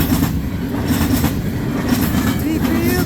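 A CN freight train, led by locomotive 2979 on train M302, rolls past at Ladysmith, its wagons rumbling and clattering steadily and loudly at close range, with wheel squeal and a brief voice over the noise.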